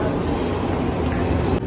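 Berlin metro train rumbling through an underground station, a steady loud low roar with no voices, ending in a brief clatter.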